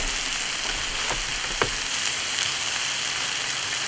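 Tortillas fry in olive oil on a flat-top griddle, giving a steady soft sizzle with a few faint clicks and scrapes, moderately close and free of talk.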